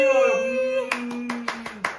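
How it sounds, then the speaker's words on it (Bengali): A sung or voiced tone gives way to family members clapping at a baby girl's first birthday, a few loose, uneven claps spaced apart close by. "হাততালি।"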